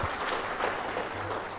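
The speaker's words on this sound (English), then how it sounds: "The rest of us clap to that." Audience clapping at a ribbon-cutting launch for an agroecology campaign event in Uganda, a steady dense patter of many hands sustained and fairly close for the whole short stretch.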